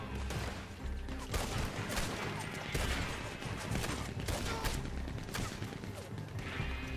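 Sustained gunfire in the online Western shooter Red Dead Online, including a mounted machine gun firing from the far end, with dense overlapping shots and crashes forming a loud continuous barrage.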